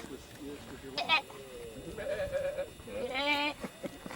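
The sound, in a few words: goats bleating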